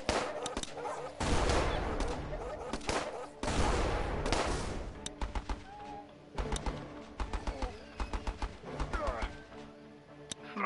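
Machine guns fire in the video game Battle Island Commanders: a long heavy stretch of battle noise, then clipped rapid bursts of shots, loud and close, with faint chirps in the background.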